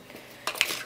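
A spoon stirs a kebab salad with pickled cucumber in a bowl, making a brief close scrape followed by two light clinks against the side, with no talking.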